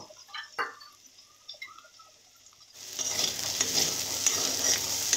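Matar frying in a pan over low gas, a few scattered scrapes and taps at first, then a steady close sizzle starting about halfway and continuing to the end.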